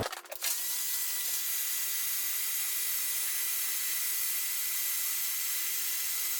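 A heat gun blows over a polished engine part from a 1982 RM 125 motorcycle, giving a steady, loud airy whoosh with a constant low hum that starts after a brief click and runs unbroken, with no talking.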